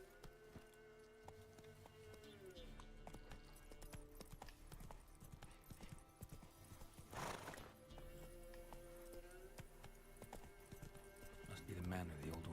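Roach, the horse in The Witcher 3, walks with soft, irregular hoof clops at a distance, under music and a talking voice, with a brief snort or whinny near the end.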